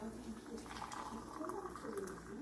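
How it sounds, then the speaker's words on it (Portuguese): Water boiling in a pot on a stove, ready to receive a cup and a half of an ingredient doubled in water; a faint, continuous bubbling simmer, with light splashy textures in the background. "Ó, tá fervendo."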